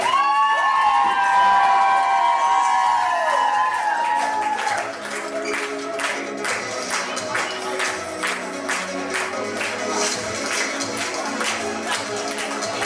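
A crowd at a flair competition cheers and claps, with a bright whistle-like tone fading early, then dense rapid applause and shouting carrying on steadily over a steady background.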